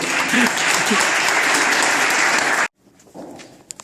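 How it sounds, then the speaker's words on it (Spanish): Loud sustained audience applause at a family spiritual retreat gathering, dense clapping that cuts off abruptly, followed by quieter room sounds and a voice. "un aplauso por favor"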